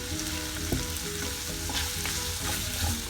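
Onions and ingredients sautéing in a pan for a tuna fish dish, a dense, close, continuous sizzle with faint stirring scrapes throughout.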